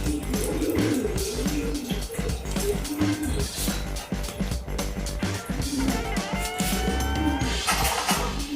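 Pigeons coo during house repair work, their soft repeated calls running through a busy, loud background with traffic and a passing motor.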